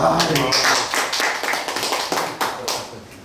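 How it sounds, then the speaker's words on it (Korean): A short burst of clapping from a group at a Buddhist lecture, sharp overlapping claps that start strong and gradually thin out over a few seconds. "박수 한번 쳐주십시오"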